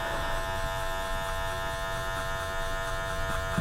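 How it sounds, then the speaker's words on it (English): Electric hair clippers at a 0.5 setting buzz steadily and close while being fanned over a thin beard, a constant mechanical hum with no speech. "we just fan the clipper over the hair"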